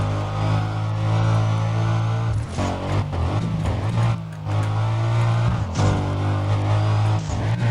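A car accelerates in the racing video game Need for Speed: Undercover during a sprint race, with a loud sustained engine hum, repeated rises in revs and occasional tire squeal.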